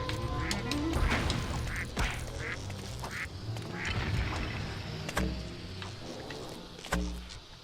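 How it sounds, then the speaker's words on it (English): Penguin bombs in Lego Batman: The Video Game give loud, repeated duck-like quacks over busy game noise and crashes, several quacks spaced across the stretch, with no talking. "why do the penguin bombs quack like a duck?"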